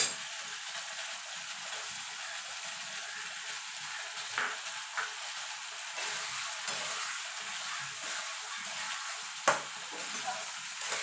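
Ridge gourd cooking in a pan with poppy seed paste, giving a steady close sizzle and bubbling with occasional louder spatters and scrapes, with no talking.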